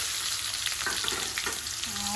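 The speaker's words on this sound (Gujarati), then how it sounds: "તેલ મૂક્યું છે વઘાર માટે એમાં રાઈને જીરોને નાખ્યું છે એમાં આપણે ડુંગળીથી વઘાર કરીશું" Onions go into hot oil with mustard and cumin seeds for a Gujarati vaghar while making patra, giving a steady close sizzle with crackling pops and light stirring and no voices.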